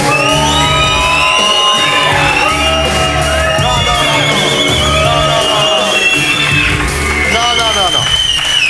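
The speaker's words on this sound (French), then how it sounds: "Excusez les cris qui vous ont accueilli, Monsieur Christol" A French television studio audience shouts, whoops and cheers loudly and continuously as a guest is welcomed, a dense crowd roar with overlapping yells throughout.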